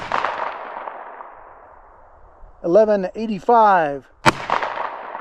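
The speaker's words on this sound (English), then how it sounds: "So for our 9mm rounds, we're going to be shooting this Spear Gold Dot 124 grain." 9mm Speer Gold Dot 124-grain rounds fired: one loud gunshot with a long decaying boom, then a brief spoken voice, then a second sharp, loud shot with its echoing tail.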